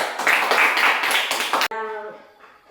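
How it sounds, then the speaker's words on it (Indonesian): A classroom group applauds a student team, with brisk, dense clapping from many hands for about a second and a half before it cuts off abruptly. "untuk kelompok 1 beri aplaus"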